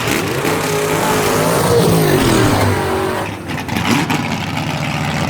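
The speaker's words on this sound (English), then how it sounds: "He's going to race Robert Frazier in the black and blue Barracuda, who's from Bristol, Tennessee." Drag racing cars launch at a dragway, one of them a black and blue Barracuda. Loud engines roar close by and rise in pitch as they rev and accelerate, then the noise drops away.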